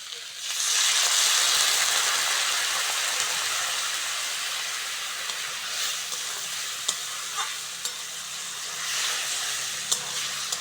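Water is poured into a hot pan of Bengali silver carp curry with potatoes, spices, green chilli and tomato, bursting into a loud sizzle that slowly eases off, with a few sharp clinks of a utensil.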